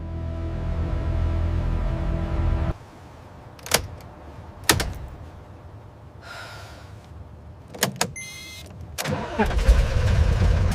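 An abandoned ambulance left for decades in a swamp, its engine running and cutting off, followed by several sharp clicks and cranking bursts as the starter is tried again, ending in a low engine rumble.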